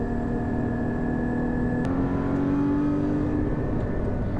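A Porsche GT car accelerates with a steady, rising engine drone and whir heard from inside, continuous and moderately loud with no talking.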